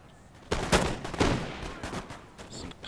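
Line infantry volley fire with muskets in the Napoleon: Total War battle game: a quick cluster of cracking shots in ragged succession, fairly faint, with a few scattered reports trailing off.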